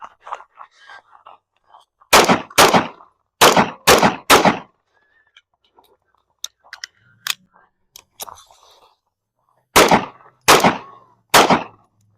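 Pistol shots ring out from a handgun fitted with an MCK conversion kit and red dot sight at an outdoor range. There are loud, sharp, close reports in quick groups of two to four, with softer clicks and handling noise between the groups.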